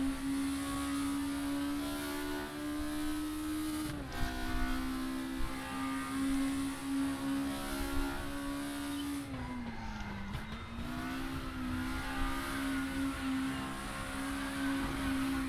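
A VW Scirocco in a racing game laps the Brands Hatch GP circuit, its engine holding a steady drone that dips briefly as it brakes and then climbs again, with faint tyre noise and no talk.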